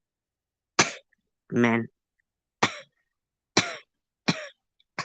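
Five short, sharp coughs spaced about a second apart, close to the microphone, with a longer throat-clearing rasp between the first and second and silence in between.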